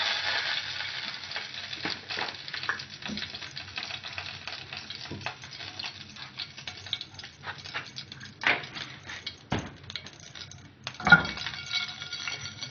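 Cumin seeds frying in ghee for a tadka, steady crackling sizzle with scattered spoon clinks and stirring scrapes against the pan, close and continuous.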